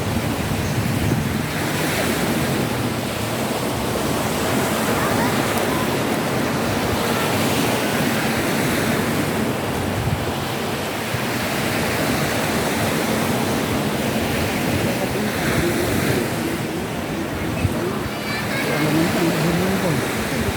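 Sea waves wash steadily onto a beach in Palawan, a loud broad roar of surf with wind buffeting the microphone, continuous throughout with no clear pauses.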